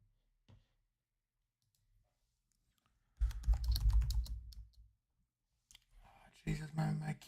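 A computer keyboard is typed on during a live trading session, first a lone faint tap, then a dense burst of rapid clicking keystrokes, a pause, and another loud flurry of close typing, with no speech heard.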